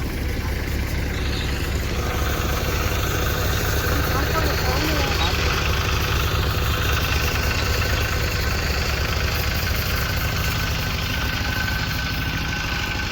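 Diesel engine of a backhoe excavator running steadily at close range, a continuous low rumble with knocking vibration throughout, with faint voices in the background.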